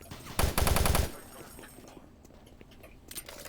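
Rapid automatic gunfire from a Doom 3 weapon, one loud burst of about seven quick shots lasting under a second, then quiet room tone with faint clicks and a small later blip.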